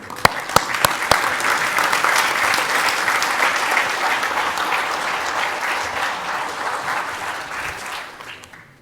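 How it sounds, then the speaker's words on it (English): A conference audience gives presenters a loud round of applause at a climate-event pitch session, dense sustained clapping from a large room that starts with a few sharp claps, swells, then tapers off near the end. "would all the presenters stand up and face the audience for a round of applause"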